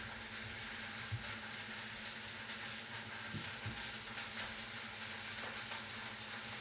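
Gnocchi frying in a pan with mushrooms, a steady, quiet sizzle that hisses evenly throughout with a few faint stirring knocks underneath.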